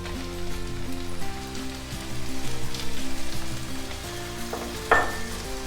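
Chopped tomatoes sizzle and fry steadily in a hot pan over ginger and garlic for palak moong dal, with stirring clatter and a louder sharp crackle near the end.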